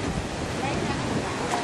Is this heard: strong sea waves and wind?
yes